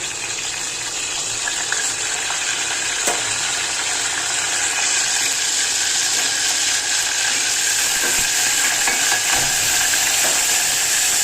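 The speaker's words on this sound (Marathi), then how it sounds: "तेल तापत ठेवलेलं आहे आणि त्याच्यामध्ये आहे ना आता हा कढीपत्ता टाकून घ्यायचा फोडणीला" Curry leaves crackle in hot oil as a tempering for moong dal amti, giving a steady, close, bright sizzling hiss that holds evenly throughout, with no voices.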